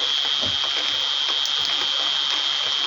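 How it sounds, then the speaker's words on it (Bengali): Heavy rain pours down on a dark night during a storm, a steady dense wash of drops with a faint high whine running throughout, scattered nearer drips standing out against it. "অনেক বৃষ্টি হইতেছে"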